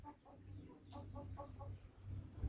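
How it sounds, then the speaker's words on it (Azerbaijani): Chickens near a smoky coop give a string of short, soft clucks in quick clusters, faint and somewhat distant over low background rumble. "Bəzi qorxmaz toyuqlarımız keçiriblər hinə."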